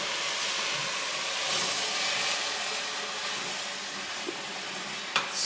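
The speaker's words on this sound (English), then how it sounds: "And then we are gradually adding in the vegetable stock." Vegetable stock poured gradually into flour cooking in a pot for a creamy broccoli soup, giving a steady soft sizzle and hiss with faint stirring, then a brief clink near the end.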